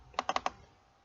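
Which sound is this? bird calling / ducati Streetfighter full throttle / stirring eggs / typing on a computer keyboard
typing on a computer keyboard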